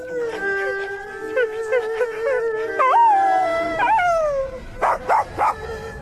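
A dog howls and whimpers in long rising and falling cries, then gives a few short yips, close and loud amid a snowy night scene.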